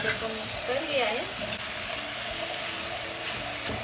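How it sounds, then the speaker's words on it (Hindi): Masala and cauliflower frying in a pan while being stirred, a steady close sizzle with scraping spoon strokes and soft clinks, continuous and fairly quiet with no talking. "थोड़ा भूनूंगी मसाला।"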